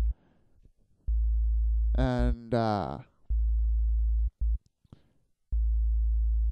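A very low 55 Hz sine tone from an Ableton Operator synth hums steadily in long sustained blocks, interrupted by someone speaking briefly and a few short gaps.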